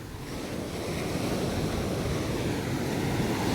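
Ocean waves crash steadily on the beach at Pondicherry, a continuous loud roar of surf with wind buffeting the microphone, no voices.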